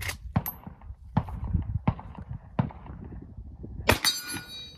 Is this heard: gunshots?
yes